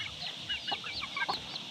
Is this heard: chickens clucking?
yes